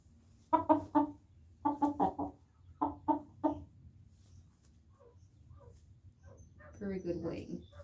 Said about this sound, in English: But this is one of our roosters.